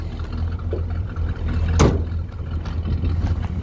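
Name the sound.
1965 Pontiac Le Mans V8 engine low rumble from rear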